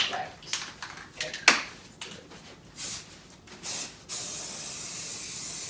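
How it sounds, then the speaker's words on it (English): Fast-drying spray paint hisses from a can onto a fireplace in short bursts, then in one longer steady spray near the end, close and fairly loud. "It's a fast drying spray paint."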